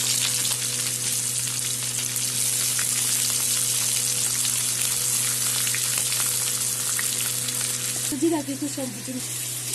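Mustard seeds, curry leaves and onion fry in hot oil for sambar, making a constant close sizzle, with a brief burst of louder crackling and a short voice near the end.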